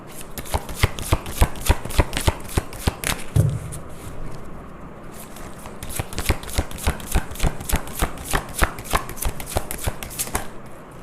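Tarot cards are shuffled by hand in rapid rhythmic bursts of crisp riffling taps, pausing briefly midway before resuming, close and without talk.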